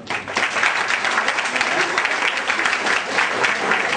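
A crowd at a ceremony honoring high-scoring students claps steadily throughout, a thick, continuous wash of applause from many people with no pauses.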